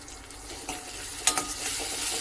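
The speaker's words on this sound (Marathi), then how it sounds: "हे छान मसाले तेलावर परतून घ्यायचे" Turmeric, coriander powder and homemade spice mix sizzle and crackle in hot oil, a steady frying hiss punctuated by a couple of spoon scrapes against the pan.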